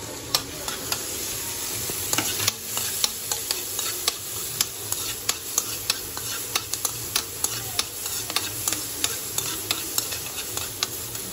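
Capsicum and onion frying in melted butter for pasta, a steady close sizzle with repeated scraping and stirring clicks of a spatula against the pan, no talking.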